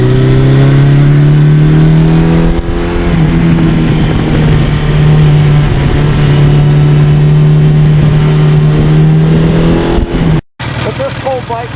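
A 1982 Suzuki GS1100E motorcycle engine drones steadily at a fairly constant pitch, then rises slightly as it is revved. A brief dropout occurs near the end.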